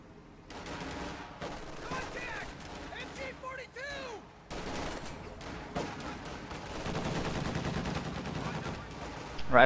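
Autocannon fire in a real-time strategy battle, a steady crackle of rapid shots mixed with other combat sounds, with commentary talk over the top and the firing growing denser and louder toward the end.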